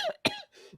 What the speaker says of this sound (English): I'm gonna cut my dying coughing out